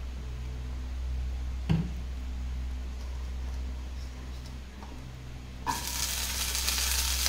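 Oil heats in a kadai, giving a soft, steady hiss with an occasional tap. Near the end the sizzle swells into a louder, brighter crackle.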